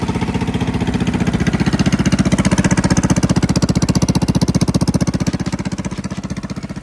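A modified mini bike engine with its low-oil sensor bypassed runs at a steady fast idle, a close, loud, rapid pulsing chug that holds for several seconds and eases slightly toward the end.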